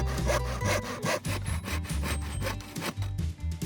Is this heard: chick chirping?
no